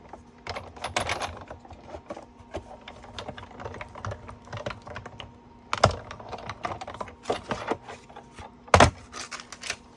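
A die cutting machine runs paper and a die through its rollers, giving a quiet stream of clicking, rattling mechanical taps with a steady low hum and a few sharper knocks, with no talking.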